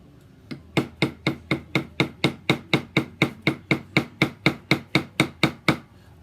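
Hammer strikes on a tool pressed into dampened leather during hand tooling, about twenty sharp, even taps in a steady rhythm, close and clear with no talking.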